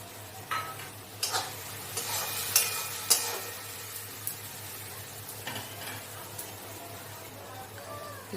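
Masala of cumin powder and ground tomato frying in a pan for a pointed gourd and prawn curry, with a low steady sizzle broken by scattered scraping stirs that grow louder at intervals.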